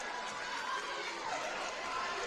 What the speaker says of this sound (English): The crowd is raucous tonight here at Clinton Prairie.